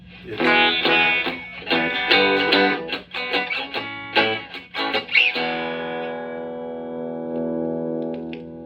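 A Telecaster electric guitar plays a run of picked, lightly overdriven notes through a Legend Rock n Roll 50 50-watt hybrid amplifier, with almost no hum, then lets a final chord ring out and slowly fade.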